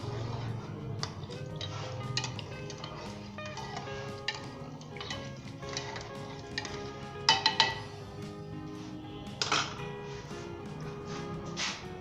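A spoon stirs and clinks faintly in a pot of tamarind chutney seasoned with black salt and red chili powder, with scattered light taps and scrapes over a quiet background.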